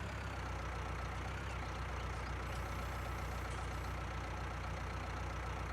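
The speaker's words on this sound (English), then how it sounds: "This is a nice little tractor." A small utility tractor engine in Farming Simulator 19 runs at a steady idle, giving a continuous low drone that holds level throughout with no talking over it.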